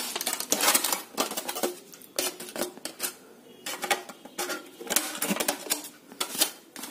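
A thin tin foil sheet is cut up close while making HO scale model corrugated metal roofing; crisp, crinkly snips and rustles come in irregular bursts with brief gaps, fairly loud and with no talk.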